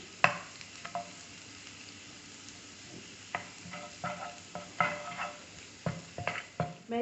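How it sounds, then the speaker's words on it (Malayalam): A small piece of butter sizzles in a hot pan on the stove, a faint steady fry under repeated close spatula scrapes and taps, with no talking. "പാൻ ചൂടാകുമ്പോൾ നമുക്കതിലേക്ക് ചെറിയൊരു പീസ് ബട്ടർ ഇട്ട് കൊടുക്കാം"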